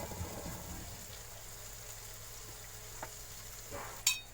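Garlic cloves fry quietly in a pan, a soft, even sizzle with faint stirring and a brief clatter near the end, no voices.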